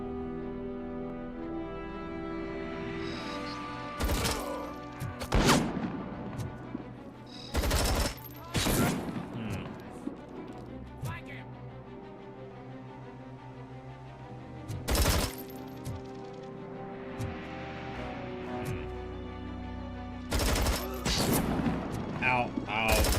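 Rifle gunfire in the video game RoboCop: Rogue City, loud heavy shots in scattered bursts separated by quieter stretches of game ambience, with a voice briefly speaking between them.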